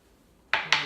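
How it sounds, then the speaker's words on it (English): Two quick scrapes of a spoon scooping the middle out of halved potatoes, close and crisp, coming back to back after a moment of quiet. "Take a spoon. Scoop out a chunk in the middle."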